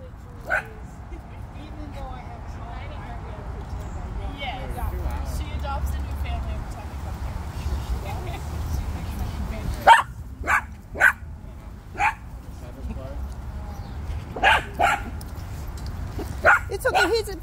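Dachshund barking and yipping in play at a dog park, with sharp repeated yaps bursting out in clusters over steady outdoor background noise and scattered voices, some barks close and loud.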